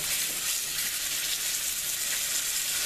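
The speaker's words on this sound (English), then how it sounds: "You want to brown it on all sides. You're just basically searing it because you're not cooking it through." Floured rabbit pieces searing in a hot pan, giving a steady, continuous sizzle and hiss close by, with no talk.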